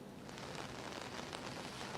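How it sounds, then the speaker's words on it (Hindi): Heavy, continuous monsoon rain makes a dense, steady hiss with no breaks, fairly faint and even throughout, with no voices. "देखिए लगातार बारिश हो रही है"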